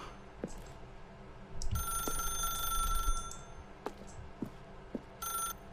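In The Stanley Parable Ultra Deluxe, a telephone rings in short repeated bursts of bright, electronic bell tone with steady pauses between them, heard over low background hum and faint clicks.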